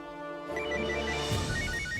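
A telephone rings with a bright electronic tone that starts abruptly after a brief quiet moment, then continues loud and steady with a repeating pattern, alone without voices.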